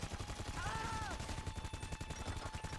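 Rapid video game gunfire in a shooter match, a steady rattling burst of shots running throughout at close range, with a brief tonal game sound near the start.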